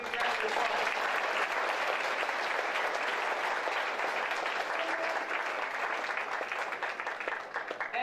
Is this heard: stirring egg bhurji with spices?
no